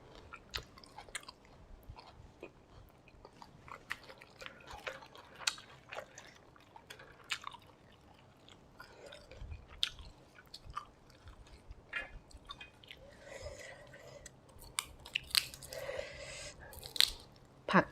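Close, crunchy chewing of bamboo shoots dipped in fermented soybean chili paste, with irregular bites and crisp crunches repeating throughout, some wet mouth sounds between them, and no talking.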